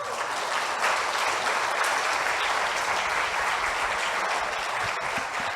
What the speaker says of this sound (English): Please, one big applause for the jury.